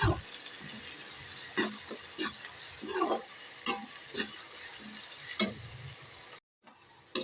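Finely chopped onions sauté in a pan for a curry, sizzling steadily while a utensil stirs and scrapes them in repeated strokes, with a brief dropout near the end and no talking.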